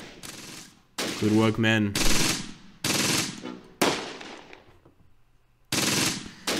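Close Combat: Gateway to Caen gunfire comes as loud, sharp bursts of rapid shots separated by brief silences, with a short spoken line in the middle.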